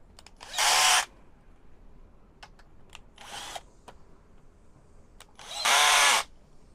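Power drill driving in fasteners to attach a leg onto a wheeled step stand, three short close whirring bursts separated by pauses filled with faint clicks and handling noises.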